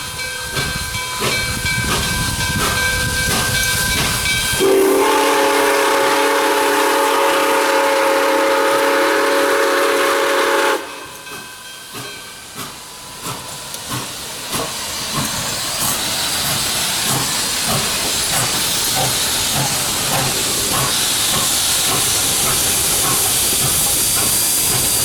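Nickel Plate Road 765, a Lima-built Berkshire steam locomotive, hisses loudly and steadily at a wye in Alma, Michigan, with a long whistle blast partway through and heavy steam venting continuing afterward.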